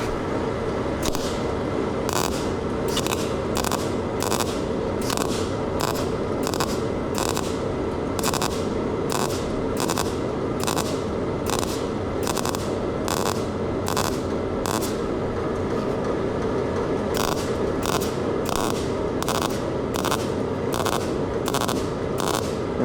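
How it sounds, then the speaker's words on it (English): A welder lays a short bead over a missed spot on a Ford F100 body panel. It sounds as a fast, even series of crackling bursts with brief gaps and a pause near the middle, loud and close over a steady background hum. "I'm going to put a little bit of weld there"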